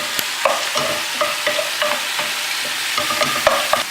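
Curry leaves crackle and sizzle in hot oil with browning garlic for a Goan chicken curry, sharp popping bursts over a continuous fry, loud and close, with a spoon stirring the pan.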